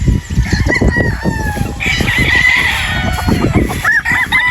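Several roosters crow one after another close by, with hens clucking and scattered farmyard noise throughout.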